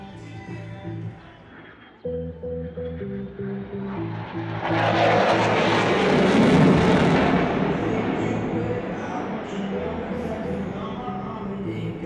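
A military jet on its final display pass at the Singapore Airshow 2020 roars in and builds to a loud, broad rushing peak before easing off, with a steady engine drone and droning tones underneath.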